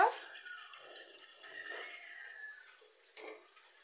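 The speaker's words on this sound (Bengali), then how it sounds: "একটু পানি দিয়ে দিব।" Water poured into a pan of hand-mixed poya fish bhuna, heard as a faint, soft trickle with a few light drips, close by and without talk.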